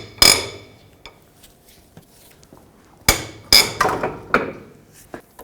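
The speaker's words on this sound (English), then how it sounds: "With a 17mm socket, I'm going to break both of these free." Sharp metallic clanks and ratchet clicks come from a 17mm socket breaking brake caliper bolts free on a 2009-2015 Toyota Prius front wheel, with bursts near the start and clustered around the middle, separated by quiet pauses.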